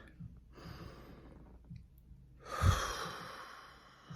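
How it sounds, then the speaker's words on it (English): Someone takes a deep breath close to the mic: a soft intake, a pause, then a long, audible exhale that swells and slowly fades. "But let's take a deep breath"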